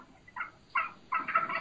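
A dominant wild turkey hen makes a low, slow call, three spaced, throaty yelps that grow slightly louder, fairly faint and heard alone.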